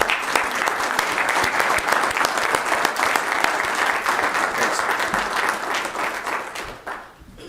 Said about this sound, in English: if we could just give the entire office a round of applause